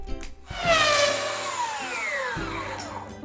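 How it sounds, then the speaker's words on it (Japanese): A belt sander smooths the cutter-cut face of a homemade door part for a kei camper, its motor whining and sweeping in pitch over a steady close grinding hum, with no talking. "ベルトサンダーです。 カッターで切った面を磨いておきます。"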